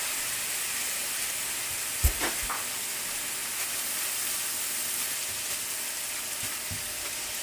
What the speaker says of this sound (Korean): 프라이팬에 식용유를 넉넉히 넣고 튀기듯이 볶아주세요.